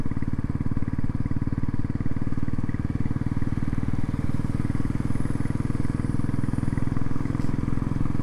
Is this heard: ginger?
no